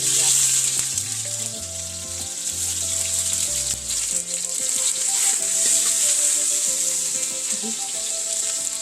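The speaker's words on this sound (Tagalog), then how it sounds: "Tapos igigisa natin sa dilis at sardinas" Anchovies and sardines are sautéed in a pan, giving a constant close hiss of frying with occasional stirring scrapes, while a faint background tone plays underneath.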